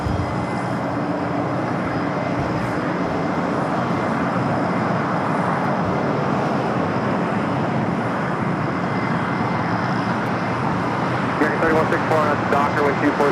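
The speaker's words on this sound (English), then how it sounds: "Coletta, flight 283 coming up from Hong Kong at a 777 freighter." A Boeing 777 freighter flies near LAX, its jet engines producing a continuous broad, rushing roar at a steady level that swells slightly toward the end.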